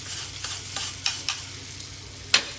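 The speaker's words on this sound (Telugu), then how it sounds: "స్టవ్ ఆపి ఇప్పుడు ఈ పోపుని ఇందులో చూడండి" Hot tempering hits a roasted brinjal chutney and is mixed in, giving a soft sizzle under a few sharp spoon scrapes and clinks against the bowl, close and brief.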